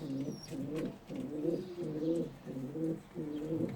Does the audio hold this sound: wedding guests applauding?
no